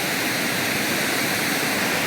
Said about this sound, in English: this is the waterfall coming down from all the way up there, going down here into that pool